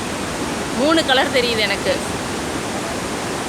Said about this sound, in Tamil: பாருங்கள், தண்ணி மலை மாதிரி கொட்டுறது நம்ம மேலே.